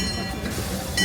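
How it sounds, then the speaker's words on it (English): A Disneyland Paris railroad train rumbles steadily nearby in the park, a continuous low rolling wash with a brief louder swell near the end. "It's the train, the railroad."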